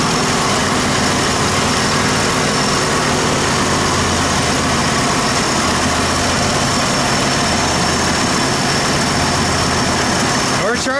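A Ford F150 Bullnose pickup truck idles while warming up, its low, steady engine rumble running close and continuous throughout the clip, with some brief clatter right at the end.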